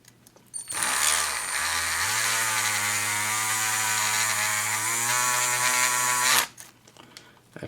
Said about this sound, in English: I don't know how well this Dremel's going to drill it